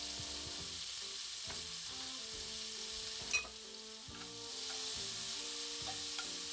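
Butter sizzling in a frying pan for a steak sandwich, a continuous close hiss with occasional utensil taps and scrapes, swelling slightly louder toward the end, no speech.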